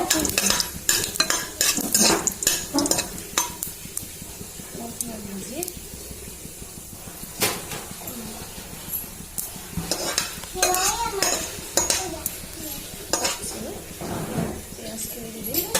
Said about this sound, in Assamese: আৰু এয়া তেজপাত আৰু লং ইলাচি আৰু ডালচেনি। আৰু এইখিনি অকণমান লৰাই ভাজি ল'ব।